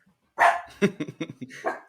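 Small dachshund puppy barking close by, one sharp bark followed by a quick string of short yips and a final bark, loud against quiet surroundings.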